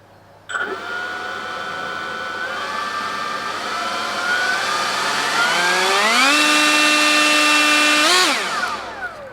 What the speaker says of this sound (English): So we're going to be testing this blower out